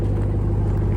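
The V8 engine exhaust of a 2024 RAM 1500 TRX, heard from behind as a loud, steady, deep idling rumble with a throbbing low pulse.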